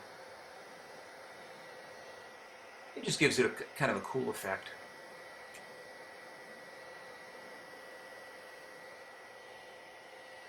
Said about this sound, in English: I also used a hairdryer to kind of blend the darker blue into the lighter blue